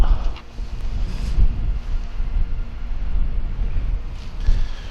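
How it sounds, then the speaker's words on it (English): Gusty wind in the Wyoming hunting country buffets the microphone with low, rumbling blasts that rise and fall unevenly throughout, with no talking. "It's pretty windy though, so hopefully they do come out."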